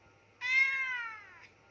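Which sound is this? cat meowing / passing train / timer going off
cat meowing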